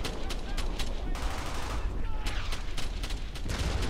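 Rapid automatic and rifle fire crackles in steady bursts through a firefight in the World War II game Brothers In Arms: Hell's Highway, loud and close over a rumbling battlefield backdrop.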